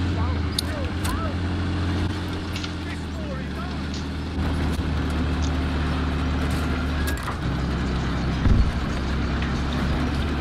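A tank engine in Battlefield V gives off a steady, low, rumbling drone throughout, with occasional clanks and distant effects and people talking over it.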